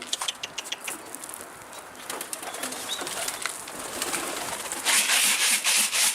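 Soft cooing of pigeons with bursts of fluttering wings, close by, growing busier and louder toward the end.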